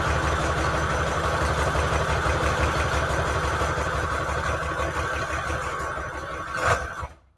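A sewing machine stitches around a paper junk journal tag in a continuous, close, buzzing motor whir, then slows and stops with a brief clunk near the end.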